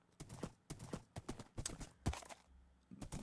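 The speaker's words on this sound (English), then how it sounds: "You see how smooth horse riding has gotten?" Rhythmic clip-clop of horse hooves during riding in Minecraft, a steady series of close, crisp thuds repeating quickly and evenly with brief gaps.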